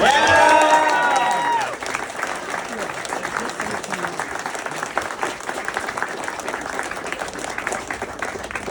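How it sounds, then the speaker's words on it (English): Crowd at a campaign rally in St. Augustine bursts into applause mixed with cheering and whistles, loudest at the start and then settling into sustained clapping; a voice briefly rises above the noise early on. "You are patriots. Give them a round of applause."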